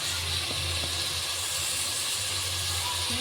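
Goat brain frying in a pan gives off a continuous, even sizzle and hiss, close and steady, with a low background hum and no voices.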